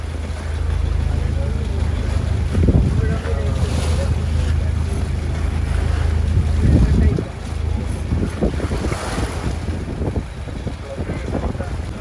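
A boat cruises along a backwater at Kumarakom, its engine droning steadily under heavy wind buffeting, with people talking at times.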